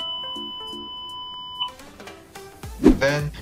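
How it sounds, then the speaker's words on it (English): A GMDSS radio transceiver aboard a vessel sounds an alarm during a safety test: a steady high electronic tone with short beeps that cuts off, followed by clatter and handling noises close by. "And wait for the alarm to sound."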